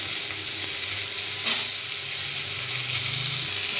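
Cut potatoes fry in a pan with a steady, fairly loud hiss of hot oil, one brief clatter midway, heard close with no talk.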